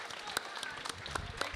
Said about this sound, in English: Can we have a massive round of applause for our youngest roboteer here, Amy?